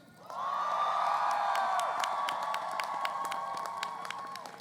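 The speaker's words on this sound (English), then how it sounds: "give them your loudest and heartiest applause and cheer" Graduates at a university commencement ceremony for the class of 2023 burst into loud, sustained applause and cheering, with whoops and whistles rising over a dense crowd roar that holds steady for several seconds.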